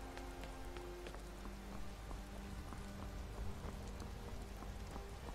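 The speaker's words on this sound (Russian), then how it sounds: "Блин, а круто, дождь реализовал." Rain falling in the video game Skyrim, a soft continuous patter of drops on surfaces with scattered sharper ticks, quiet and even throughout, no talking.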